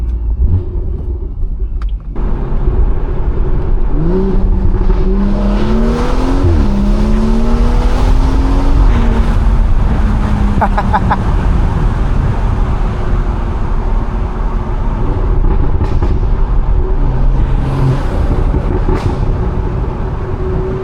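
A loud BMW with a B58 engine drives along backroads, its deep, steady rumble filling the cabin as revs rise and fall through gear changes, with no talking.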